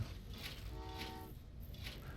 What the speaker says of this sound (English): I'm going to send a passenger train up into here.